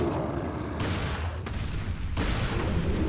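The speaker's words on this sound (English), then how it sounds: "Oh, the shotgun's epic." Shotgun blasts from the video game Resident Evil 4, heavy broadband booms in quick succession that swell and decay across the clip, loud and close with no talking over them.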